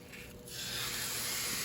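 Pot roast hits a hot pan and a broad, steady sizzle rises after a brief quieter moment, holding loud and close with no talk over it.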